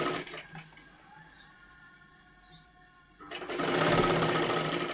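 Sewing machine stitching the round neckline of a size 36 katori blouse, quiet handling at first, then the motor kicks in loud and close and runs steadily to the end.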